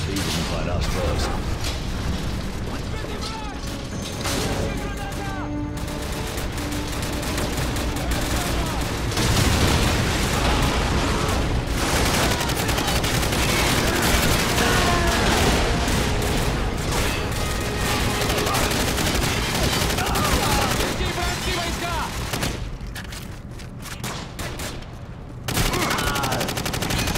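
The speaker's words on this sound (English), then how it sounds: "we're taking some fire up here at the vehicle depot" Dense, continuous gunfire in Call of Duty 4: Modern Warfare at a vehicle depot, rapid automatic bursts and booms layered together for nearly half a minute, loud and close throughout.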